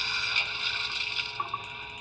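Injectors on an LGB Stainz model steam locomotive feed water into its boiler, making a steady hiss and rush of water with a few small clicks near the end.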